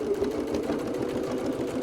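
A sewing machine stitches a back-stitched seam on a wallet made with a multi-function die set, running in a steady continuous whir close by with no pauses and no talking.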